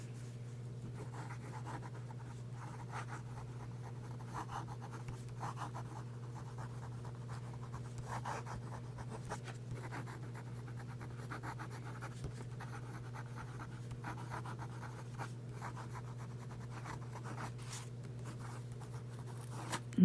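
Fountain pen with a wet nib scratching across paper, soft intermittent strokes over a steady low hum, quiet and close.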